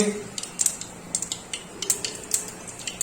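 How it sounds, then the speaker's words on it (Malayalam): Mustard seeds pop and splutter in hot coconut oil, a series of sharp crackles scattered irregularly over a soft sizzle, close and fairly quiet. "കടുക് പൊട്ടി"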